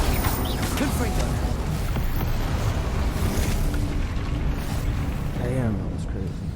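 Confringo explosive spell blasts in the Hogwarts Legacy video game: a continuous roar of booming, rumbling bursts and crackle that fills the whole stretch, with a voice briefly audible over the din.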